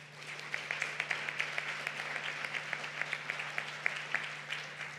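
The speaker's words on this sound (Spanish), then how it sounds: "un fuerte aplauso para nuestros panelistas" Audience at a financial planning and wealth management summit applauds the panelists, a steady wash of many hands clapping with distinct individual claps popping through, sustained at even level throughout with a low steady hum underneath.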